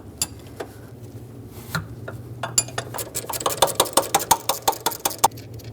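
A 14mm wrench works loose the mounting nut of the brake master cylinder on a 2011-2018 Ram 2500, sounding as a run of sharp metallic clicks and knocks, close and loud, quickening into a steady ratcheting rhythm.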